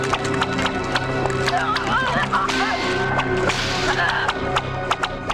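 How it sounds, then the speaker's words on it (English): Whip-crack effects from film roots made of rubber garden hoses: sharp, repeated cracking snaps scattered through a dense movie soundtrack, mixed with rumbling and crowd-like noise and voices. "The roots are clearly rubber garden hoses that make this whip crack sound"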